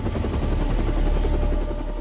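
A helicopter thrums close by, rotor blades chopping in a fast steady rhythm under a loud engine whine.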